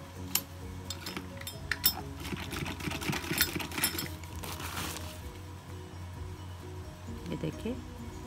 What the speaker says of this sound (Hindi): ये देखिए इसको फोल्ड करते जाएंगे और इसको सिलते जाएंगे।